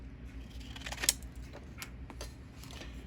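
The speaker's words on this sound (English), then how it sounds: "let's get the old scissors out. Cut another strip or 2 maybe." Scissors cutting a strip of material at a workbench during cleaning of a CB radio relay, a few close, crisp snips with one sharp click in the middle over steady low background hum, no voices.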